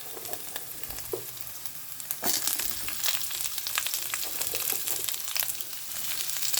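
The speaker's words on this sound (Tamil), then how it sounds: "பூண்டு போட்டுக்கலாம், காஞ்ச மிளகாய் போட்டுக்கலாம், கொஞ்சம் வதக்கிக்கலாம்" Garlic, dried chilies and onion sauté in a hot pan with a bright, close crackling sizzle that swells partway through. Spoon scrapes and stirring rustles come and go, with no voices.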